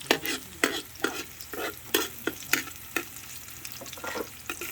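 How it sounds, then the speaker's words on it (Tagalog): Garlic frying in a pan outdoors on a farm, irregular scraping strokes of a utensil stirring every half second or so over a soft continuous sizzle. "Ilagay ang bawang at halu-haluin."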